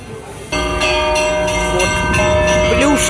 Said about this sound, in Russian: церковь все еще с колоколами